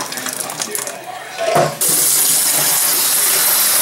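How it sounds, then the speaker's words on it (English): Hot water poured out of a pan of boiled eggs into a sink, a short clatter and splash followed by a steady, loud rush of running water. "let's drain this hot water out"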